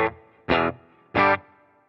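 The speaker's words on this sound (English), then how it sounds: "Now this is just a little bit of reverb," Two short electric guitar strums on a Fractal FM3 modelling unit with light London plate reverb, each chord ringing about half a second, then fading into a soft plate tail.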